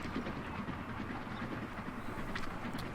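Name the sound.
Atlantic steam train running in Transport Fever 2 video game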